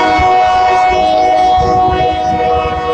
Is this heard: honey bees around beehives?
no